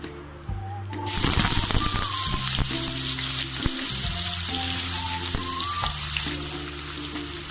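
Potatoes hit hot oil with cumin and a dried red chilli, setting off a loud, close, sustained frying hiss that starts abruptly after a second and stays steady, with faint tonal hum and occasional clinks underneath.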